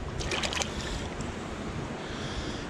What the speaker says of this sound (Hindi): ये मैं हाथ धोता हूँ